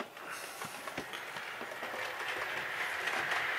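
A model train runs fast around a track loop, a faint continuous rumble with light rhythmic clicking from the wheels on the rail joints.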